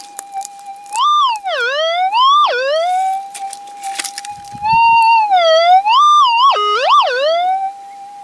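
A metal detector's warbling electronic tone rises and falls in pitch, sweeping in repeated bursts over a steady hum, loud and close with no talking, while searching for gold.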